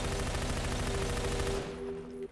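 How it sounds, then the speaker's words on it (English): A fully automatic weapon rattles off a rapid, continuous burst of gunfire in Garry's Mod, loud and unbroken for about a second and a half before cutting off, leaving a fading hum. "what if you hit it with a fully automatic weapon?"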